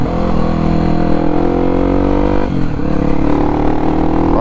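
A 299cc Honda XRE motorcycle holds a steady high-revving engine note against its two-step launch limiter, loud and close, with a brief dip and recovery midway; no one speaks.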